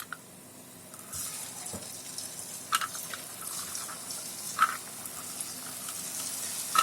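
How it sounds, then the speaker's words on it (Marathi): Papdi dough dropped into hot oil in a home kitchen, with a steady soft sizzle and bubbling of frying plus a few small clinks of utensils, fairly quiet and close. "आणि असे तेलामध्ये आहे ना असे पापडे सोडायचे."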